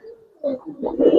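Young red Giribaz pigeon cooing close by, two or three short soft coos in quick succession with no talking.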